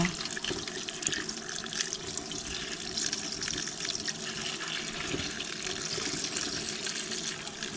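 Steady running tap water pours close by as a wild mushroom is rinsed under it, a continuous hiss and splash without pause.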